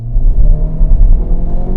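A 2023 Honda Civic Type R, front-wheel drive with Brembo brakes, accelerates hard with a loud, steady engine rumble and revving drone while the tires struggle for traction, close and continuous.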